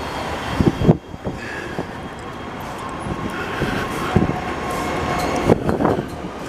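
A Montreal commuter train rides along with a steady rumble and rattle, heard from on board, with a few thumps and knocks scattered through.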